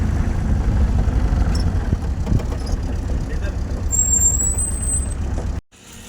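A vehicle pulls into a diesel fuel pump, its engine rumbling loudly and steadily at close range with a brief high hiss, before the sound cuts off abruptly near the end.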